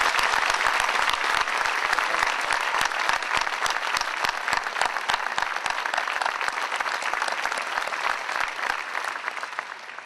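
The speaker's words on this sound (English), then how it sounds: "Can I get a round of applause?" Audience at an Orlando Police Department change of command ceremony applauds the Chief of Police and executive staff, dense sustained clapping from a large crowd that tapers slightly toward the end, with no voices over it.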